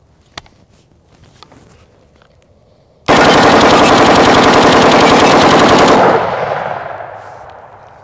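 Thirty rounds of 5.56 are fired in one loud, continuous burst at steel body armour, a dense rapid stream of close gunshots that stops abruptly and leaves a fading echo.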